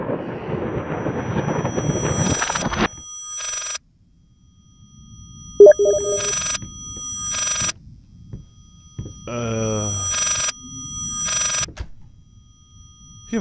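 Telephone ringing inside the horror game Layers of Fear, sounding as repeated bursts of bright electronic ring with gaps between them, after an opening stretch of dense noise, with low ambient rumble underneath.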